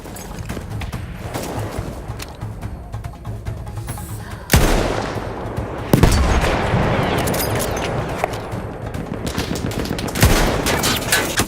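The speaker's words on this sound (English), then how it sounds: "Oh, he was shooting me then." Battlefield 1 battle gunfire: steady bursts of rifle and machine-gun fire with several heavy close blasts punctuating the stretch, loud and continuous throughout.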